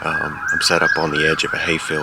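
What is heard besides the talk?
ambulance siren in the background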